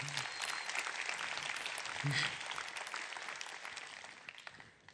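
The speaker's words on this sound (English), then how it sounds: "If everybody could please join me in giving him a round of applause." Audience applause for a Leica Academy instructor at a Xiaomi product launch event, a faint, distant wash of clapping held steady for several seconds before tapering off.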